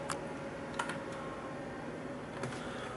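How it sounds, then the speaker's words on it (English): Several keyboard key presses, a few sharp clicks scattered over a steady background hum, close and moderately loud, no talking. "we're just going to hold the F12 key on the keyboard"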